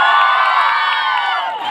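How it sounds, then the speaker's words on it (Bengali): A loud crowd of students at a women's college function erupts in high-pitched cheering, shrieks and whoops, close and sustained for the whole moment. "জোরে হাততালি জনের জন্য"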